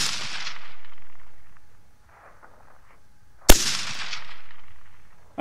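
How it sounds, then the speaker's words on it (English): A single sharp crack from a Uintah Precision AR-15 semi-automatic rifle fired at long-range targets, cutting through steady wind and background rumble, followed by a lingering rolling echo. "Oh, last shot and I missed it."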